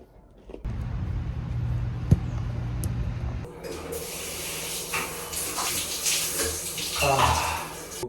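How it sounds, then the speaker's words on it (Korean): A cold shower runs after a morning football session, its water streaming in a steady, close hiss that thickens and brightens partway through as the spray shifts, continuing without pause to the end. "냉수 샤워도 마무리했습니다"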